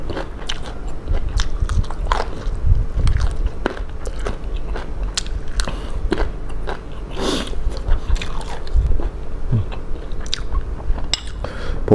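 Close, loud chewing of tender yet chewy beef, with repeated wet bites and crunchy mastication sounds in an uneven rhythm throughout, no talking.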